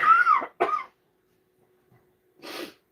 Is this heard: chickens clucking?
no